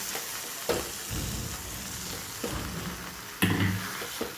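Aloo matar sandwich stuffing of mashed potato and peas mixed in a pan, with a steady sizzle and a few louder spatula scrapes and knocks against the metal, up close and without talk.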